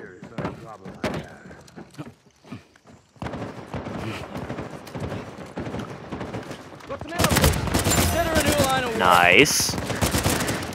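Gunfire in an Uncharted 4 multiplayer match: bursts of automatic shots and single cracks, growing denser and louder toward the end, mixed with game effects while a player talks over the action.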